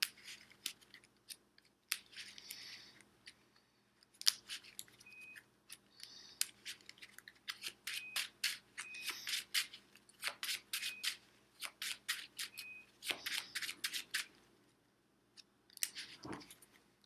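Harry Potter: Hogwarts Battle deck-building board game cards being shuffled by hand, with repeated crisp riffling bursts in quick rhythmic runs, close and fairly quiet, and no talking.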